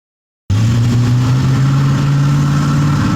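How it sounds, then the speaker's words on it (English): A car engine at a pop-up car meet starts up loud and abruptly after silence, then holds a strong, steady droning rumble without much rise in pitch. "When engines start revving this loud and strong, it makes Spokane neighbor Jessica Stewart f"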